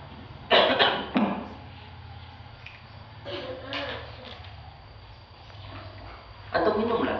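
Several harsh coughs come in short bursts, with a quieter stretch between them, over a low steady hum.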